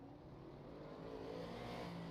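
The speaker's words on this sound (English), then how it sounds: "Brady Floyd was going to be the first car off pit road" A race car in the Extreme Forces Racing League pulls off pit road with a steady engine drone that rises slightly as it accelerates, faint and moderately distant, with no talking.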